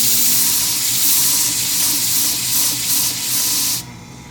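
Steady abrasive scraping of a Vern shears blade being sharpened to raise a burr, close and continuous rasping strokes that stop abruptly near the end, leaving quiet.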